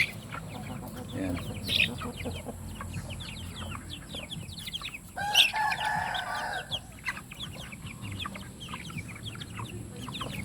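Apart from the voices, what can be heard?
native Basilan chickens clucking and crowing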